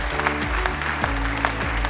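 Applause from a congress audience at a regional assembly, heard under loud, droning sustained tones from a sound system; clapping bursts pulse faintly through the mix for a couple of seconds.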